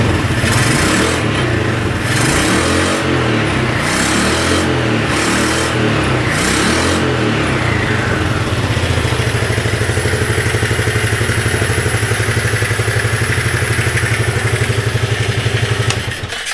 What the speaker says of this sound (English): 300cc single cylinder, they do tend to rattle a bit.